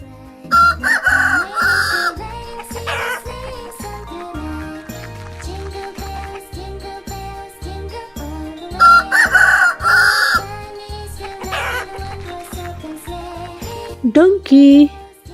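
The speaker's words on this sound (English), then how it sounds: "chicken," A rooster crows twice in an educational animal-sound sequence, with long loud calls that rise and fall over a steady rhythmic musical backing, and a short squawk near the end.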